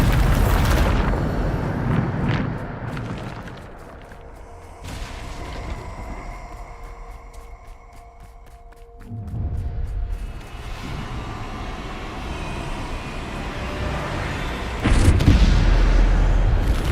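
A Bombarda blasting spell detonates in Hogwarts Legacy, a game explosion that booms in repeated loud bursts, with heavy low rumbles and crackling tails over game music and combat noise.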